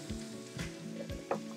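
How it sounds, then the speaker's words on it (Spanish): Food for a shrimp and plantain basket sizzles quietly in oil in a pan, a soft continuous frying crackle with light stirring scrapes, no voices. "y esperamos que se sofrían más o menos de unos 5 minuticos"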